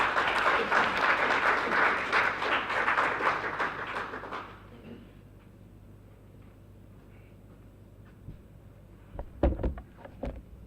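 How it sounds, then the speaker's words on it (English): Audience applauding for a CEO at a keynote event, dense steady clapping from a large crowd that fades out after about four seconds, followed by quiet room tone and a few soft thumps. "Let's give the CEO a big round of applause as he comes forward."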